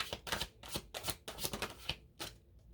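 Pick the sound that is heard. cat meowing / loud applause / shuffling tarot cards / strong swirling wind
shuffling tarot cards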